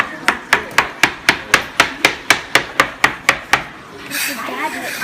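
A knife chops soft gnocchi dough into strips on a board, about fourteen sharp evenly spaced thuds close up, followed by a brief rustle of the cut pieces being gathered.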